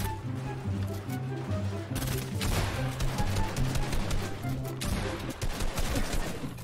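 Rapid bursts of gunfire in a Fortnite match crackle continuously in fast, uneven volleys at moderate volume, layered over a low humming game soundtrack.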